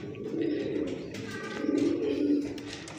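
A large breeding female pigeon coos up close, a low, soft, rolling murmur that swells twice over a few seconds.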